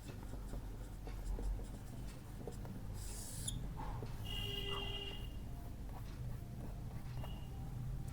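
Marker or chalk scratching on a board while a table is drawn for a data handling lesson, a faint, steady scraping under constant background hiss with a few brief squeaky strokes.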